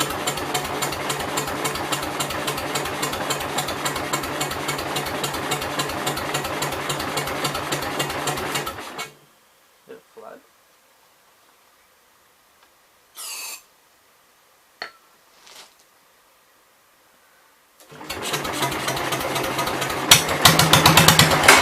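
A 1972 Gravely 430 tractor engine runs on carb cleaner with a loud, rapid knocking chug for several seconds, then dies to near silence with a few faint clicks and sputters before catching and roaring again.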